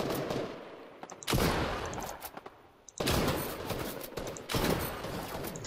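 Gunfire in a Fortnite match crackles in several loud bursts of rapid shots separated by short quieter gaps, close and harsh, with no talk over it.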